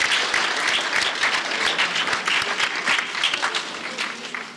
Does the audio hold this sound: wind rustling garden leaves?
no